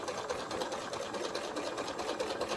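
Sewing machine stitching a quilt seam, a close, steady rapid mechanical whirr with an even fast pulse of needle strokes running without pause, no voices.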